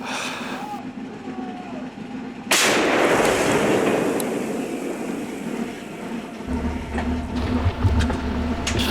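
A single heavy artillery gun blast erupts after a low rumbling hum, followed by a long roaring decay and continued engine drone, fired at Russian positions in Ukraine.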